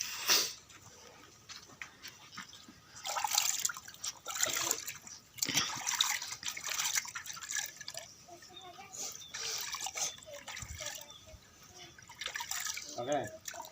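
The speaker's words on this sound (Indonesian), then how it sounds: "Mama berdua silahkan cuci tangan." Hands being washed in a bowl of water without soap, with irregular splashing, dripping and trickling close by, mixed with people talking throughout.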